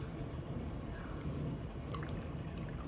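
Water pouring into a jar held by hand, a steady close liquid gurgle and trickle with a few faint drips.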